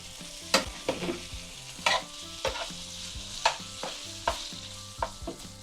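Summer vegetables for a quinoa dish cook in a pan, giving a quiet sizzle punctuated by regular scraping stirs of a utensil, close and unaccompanied by talk.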